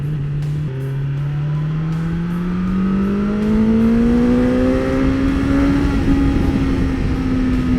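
A 2020 BMW S1000XR motorcycle accelerating hard, its engine note climbing steadily through the gear with a loud, continuous rising whine and heavy wind rush.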